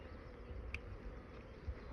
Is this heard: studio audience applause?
no